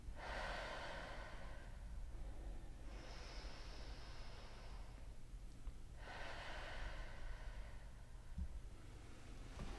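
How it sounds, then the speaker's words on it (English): A patient lying for a chiropractic treatment takes slow, deep breaths. Two long, soft inhale–exhale cycles sound faint and close over a low steady hum, with no talking. "let's go ahead and take a few big breaths through there"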